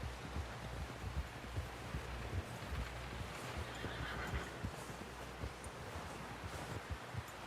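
A horse in Red Dead Redemption 2 snorts and whinnies quietly while hooves clip-clop and shuffle nearby, with soft rustling throughout.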